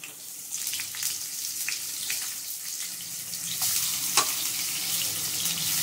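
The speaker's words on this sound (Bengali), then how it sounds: "কুমড়োটা একটু ভেজে নেব আমি সামান্য" Pumpkin pieces fry in hot mustard oil with nigella seeds, giving a bright, rushing sizzle that swells and stays loud throughout, with occasional stirring scrapes and a sharp clink partway through.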